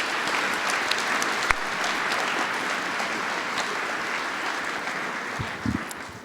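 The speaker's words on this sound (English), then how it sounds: "Would you join me in giving Neil Regino a round of applause?" Sustained applause from an audience at a school assembly, steady dense clapping filling the room for several seconds with a few louder claps standing out.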